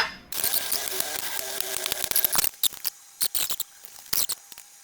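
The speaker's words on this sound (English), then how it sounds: "I'm not going to use a gasket, so I got to file this thing flat." Hand file scraping across a metal turbo flange: dense rasping at first, then short separate strokes with brief gaps, loud and close.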